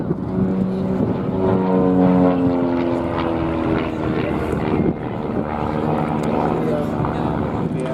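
Two aerobatic propeller aircraft perform stall turns at an air display at Abingdon in 2023. A steady, moderately loud engine drone wavers in pitch beneath continuous commentary from a public address announcer.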